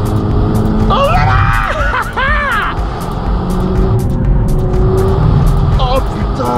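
Renault Megane 4 RS Chassis Cup in race mode, a loud engine roaring and revving close by with wind noise, while people talk excitedly over it.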